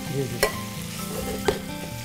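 King prawns frying in hot oil: a steady, close sizzle runs throughout, broken by two brief knocks of a utensil stirring the pan, with no speech.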